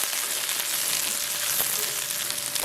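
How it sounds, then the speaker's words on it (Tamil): Onion and dried red chillies fry in oil in a pan, giving a steady, bright, close sizzle that carries on without pause and with no talk. "வெங்காயம் பொரிக்கிட்டுது."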